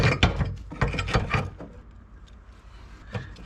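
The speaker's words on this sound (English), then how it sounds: "Unscrew the jack a little bit to retract it, and you should be able to remove it." A car jack under an Autozam AZ-1 being unscrewed to lower it, giving a burst of ratcheting, clicking metal turns followed by quieter, sparser clicks, close up with no speech.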